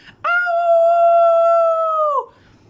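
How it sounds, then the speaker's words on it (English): A single long, steady wolf howl with a rich harmonic tone rises in and holds for about two seconds before dropping off, clear and alone against a quiet background. "there was a howling sound of a wolf that could be heard in the background"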